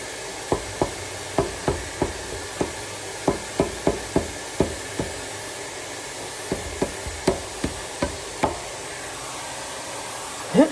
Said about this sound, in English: I'm just using a small bolt and the end of my thing to kind of tap it in there